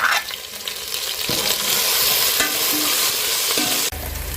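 Green chillies hit hot tempering oil with deeply browned onion, giving a loud, continuous frying sizzle with a few sharp crackles and stirring sounds.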